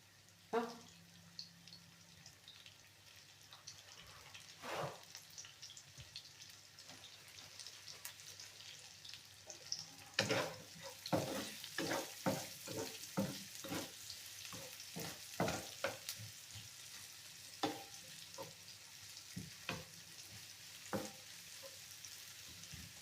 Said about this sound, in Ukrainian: Ну от, цибулька моя дотушується.